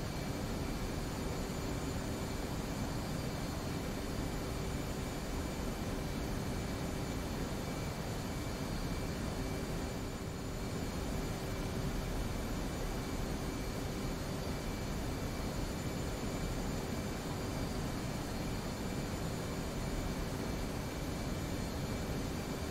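A-10 Warthog jet engines drone steadily in a flight simulator during aerial refueling, a continuous broadband roar with faint steady tones, unchanging and loud throughout, no voices.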